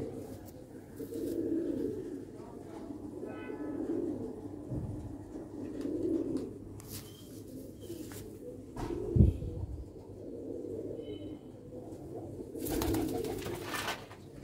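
Sialkoti black-faced pigeon chicks give soft, low, repeated coos in a slow steady rhythm every couple of seconds, close to the listener, with a single brief thump partway through.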